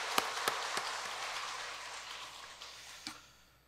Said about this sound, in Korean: 우리 한번 감사하며 하나님 앞에 영광의 박수 돌리겠습니다